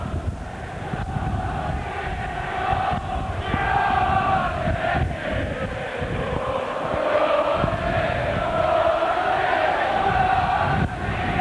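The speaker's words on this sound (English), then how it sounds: "the Grimsby crowd coming to life" Football crowd at Grimsby Town's ground during a 1992 League Cup tie, a steady broad roar of cheering and chanting that swells slightly midway and holds loud throughout.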